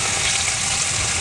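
Pieces of boal fish frying in hot oil, a loud, close, continuous sizzle that holds steady throughout with no talk.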